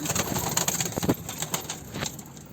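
Soft, low pigeon coos repeat inside a coop against a busy background of rustling and faint bird noise, fairly close by.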